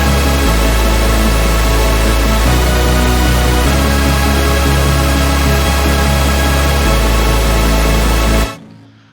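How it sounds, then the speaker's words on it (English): Dense, bright synth saw chords fill a melodic dubstep drop, loud and sustained with heavy sub bass underneath, chords shifting every couple of seconds before cutting off abruptly near the end. "all the saws together sound like this."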